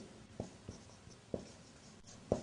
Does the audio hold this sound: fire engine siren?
no